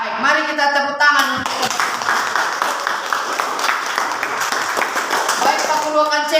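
Classroom students clap together after a teacher's prompt, a dense patter of hand claps heard up close and moderately loud, with voices talking over it at the start and end.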